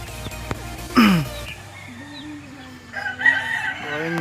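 Roosters and hens in a backyard flock. One rooster gives a loud close crow, and more crowing and clucking follow from other birds nearby and farther off. Wind noise runs underneath.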